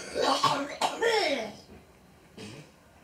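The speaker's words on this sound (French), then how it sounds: "Ah, désolé, j'ai toussé." A person coughs a few times in quick bursts, close and fairly soft, followed by a lighter single cough after a pause.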